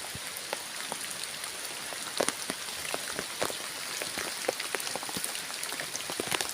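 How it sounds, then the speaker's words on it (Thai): Steady rain patters across a sugarcane field, a dense wash of drops with scattered sharper splats close by, continuous and moderately loud with no voices. "พาชมบรรยากาศฝนตกที่ แปลงเกษตรนะครับ"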